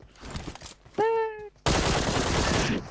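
Bursts of automatic fire from a Vector submachine gun in a shooting video game, a loud sustained rattle closing the clip after a short tonal in-game sound.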